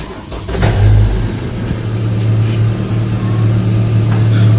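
Car engine starting after a tune-up, catching and revving up loudly up close before settling into a steady, smooth running drone.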